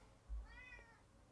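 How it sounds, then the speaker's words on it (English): A pet cat named Hockey Boy gives one short, faint meow close to the microphone, with a soft thump just before it in an otherwise quiet room. "there goes my cat, Hockey Boy."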